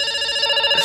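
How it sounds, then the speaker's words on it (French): Ringtone of a Lenovo K3 Note phone: a brief bright electronic tone pattern with pulsing, ringing notes, fairly loud and alone. "Il a une sonnerie."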